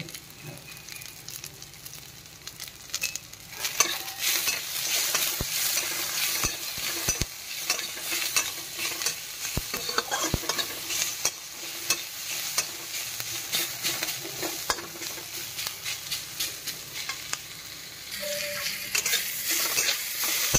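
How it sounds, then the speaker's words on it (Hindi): Tomato chutney ingredients, lightly salted, being stirred and fried in a pan: a steady close sizzle with repeated scraping and clinking of the spoon against the pan, no talking. "ये देखिए इतना ही इसको भूजना है"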